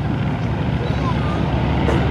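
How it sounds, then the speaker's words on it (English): Radial-engine airplanes flying past in diamond formation at the Culpeper Air Fest, a dense, steady roaring drone filling the air throughout with no gaps. "of these beautiful radial engines."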